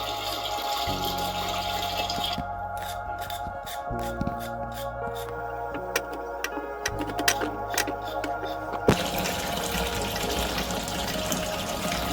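Steady rush of running water pouring into a pot to change the salted soaking water for cabbage, continuous throughout with a few clinks and knocks, no talking.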